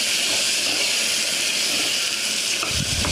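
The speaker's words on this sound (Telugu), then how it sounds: "అల్లం వెల్లుల్లిపాయ నల్లపోయేదాకా వేయించుకుని" Ginger and garlic frying in hot oil until dark, giving a steady, close, continuous sizzling hiss throughout, with no talking.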